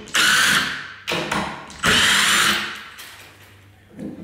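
A power drill backing the screws out of a door hinge whirs in three close, loud bursts, the first and third longest, with short pauses between and a quieter tail at the end.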